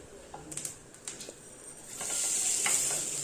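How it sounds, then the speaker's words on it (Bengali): A vegetable omelette just flipped in a pan on a slow flame, frying with a soft sizzle; a few light scrapes come first, then a steady hiss swells and holds near the close. "এবার আর এক পিঠ উল্টে দিয়ে আর 2 মিনিট সেঁকে নেবো ভালোভাবে।"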